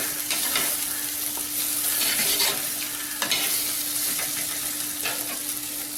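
Stuffed bitter gourd (karela) cooks on a low flame, giving a steady soft sizzle with occasional scraping stir strokes from a utensil against the pan.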